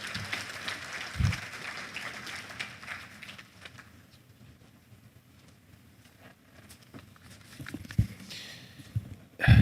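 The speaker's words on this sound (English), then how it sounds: "Please, a round of applause for him" Applause at a national conference session for a livestock development minister, a brief burst of clapping at the start that fades into scattered claps and low room noise, with a few sharp knocks and a louder swell at the end.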